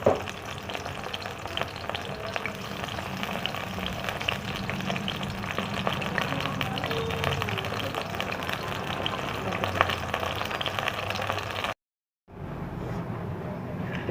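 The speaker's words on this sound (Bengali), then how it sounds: "এটাকে লাল করে একটু ভেজে নিচ্ছি" Mushrooms frying in oil for a salt-and-pepper mushroom fry, a steady dense sizzle with stirring scrapes running throughout, briefly cutting out near the end before resuming.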